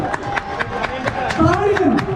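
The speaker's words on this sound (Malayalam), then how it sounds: "ഗോതിർത്തുപുത്രന്റെ ഫാൻസ് നല്ലൊരു കയ്യടി." Fans of the Gothuruthu Puthran boat cheer and clap at a snake boat race, a dense crowd wash with scattered hand claps and raised voices, steady and moderately loud throughout.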